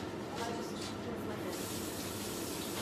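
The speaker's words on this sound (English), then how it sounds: "let me just rinse my hands." Tap water runs steadily from a faucet as hands are rinsed at a sink, a continuous broadband splashing rush at moderate level with no pauses.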